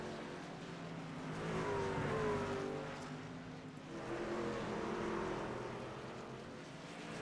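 Race trucks in the iRacing game run at Charlotte through turns 3 and 4, a continuous engine roar that swells, dips briefly and swells again at moderate loudness.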